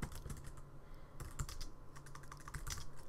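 Rapid keystrokes on a computer keyboard clatter in an uneven rhythm, close and fairly quiet, with brief pauses between bursts and no voices.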